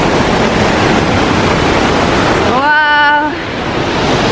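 The Velo de Novia waterfall in Oxapampa roars as a steady, loud broadband rush of falling water close by, and a person's brief exclamation rises briefly over it.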